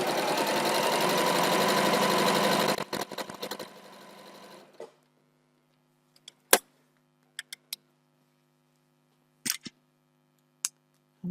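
Sewing machine stitching strips of quilt fabric for four-patch blocks; a fast, steady mechanical whir runs for about three seconds, slows and stops, followed by scattered light clicks and taps in near silence.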